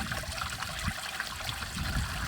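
Antifreeze gushing steadily out of a Case International 5140 tractor's cooling system into a bucket, a continuous close splashing trickle with no pauses.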